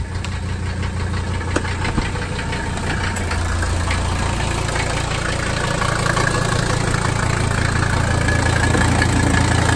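A 1985 Mercedes 300D diesel engine runs at a steady, rough idle, clattering and knocking continuously from close up, with no talking.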